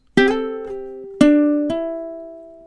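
Ukulele playing a short riff: a plucked note, then two quick notes with a hammer-on, ringing out close and clean and left to sustain and decay alone.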